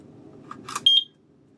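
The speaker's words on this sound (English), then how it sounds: "the little beep tells me this thing is ready to go" A carbon monoxide alarm for an RV gives a single short, high electronic ready beep close by after some faint handling clicks, then quiet.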